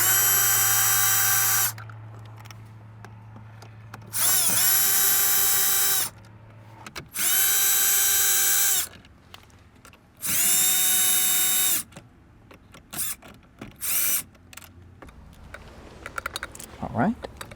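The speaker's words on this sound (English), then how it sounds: "we're gonna go ahead and remove the four 10mm bolts" A power tool backs out four 10mm bolts from a Lexus GS car dash during a CarPlay install: four loud, separate whirring bursts of a few seconds each, with clicks and handling noise between them.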